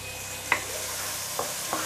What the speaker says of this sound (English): So we're going to saute this for a couple of minutes.